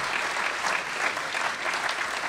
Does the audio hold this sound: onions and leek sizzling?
no